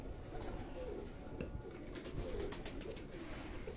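Pigeons of a Karachi breed coo in low, repeated burbling calls close by, with faint rustling around them.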